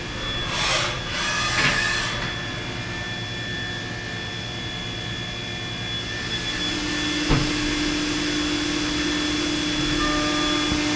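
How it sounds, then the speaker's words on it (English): A milling machine cuts a fidget spinner prototype, giving off a steady mechanical hum with a thin sustained whine and a few brief bursts of noise early on. "Yeah, you can hear it cutting."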